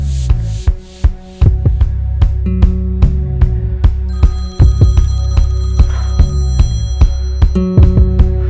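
Telephone ringing indoors, a loud, sustained electronic ring with a sharp repeating rhythmic pulse, accompanied by steady tonal hum and music, with no talk over it.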